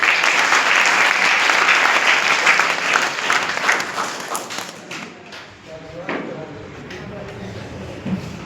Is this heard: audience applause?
yes